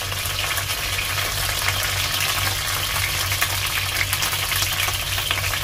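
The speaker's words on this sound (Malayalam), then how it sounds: "എണ്ണ നല്ല ചൂടായി വന്നിട്ടുണ്ട്. നമുക്ക് ആദ്യം കറിവേപ്പില ഇട്ട് കൊടുക്കാം." Curry leaves crackling in hot oil for dal fry, a dense, loud, continuous sizzle with tiny pops running steadily throughout.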